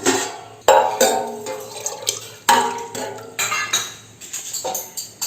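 Water poured into an onion kachori dough mixture in a bowl, with repeated clinks of a utensil against the vessel, splashes and drips in irregular bursts, close and fairly loud.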